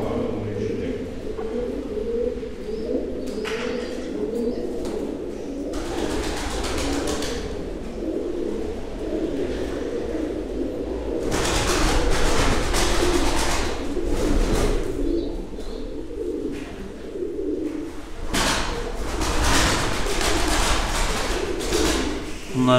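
Mardin tumbler pigeons coo in a low, continuous murmur, several birds close together with overlapping soft calls, while someone talks intermittently over them and occasional knocks and rustles break in.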